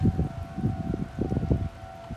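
A tornado siren wails steadily in the distance, a faint sustained tone beneath close rustling and wind noise with no talking.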